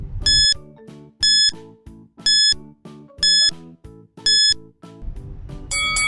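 Quiz countdown timer sounding five bright electronic chime bursts about a second apart over a ticking musical pattern, ending in a busier closing flourish.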